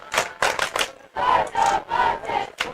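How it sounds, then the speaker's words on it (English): A home crowd at a high school varsity football game roaring after a turnover, in rhythmic bursts of chanting and cheering that rise and fall several times, loud and close. "Viking crowd got very excited there for that turnover."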